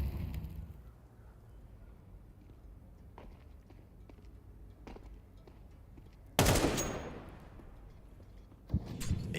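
An AK rifle fires in a Counter-Strike esports match: a sudden loud burst of gunfire cuts in after near-silence, dies away, then a second sharp burst follows near the end.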